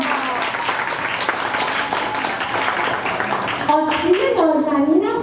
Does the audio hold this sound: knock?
no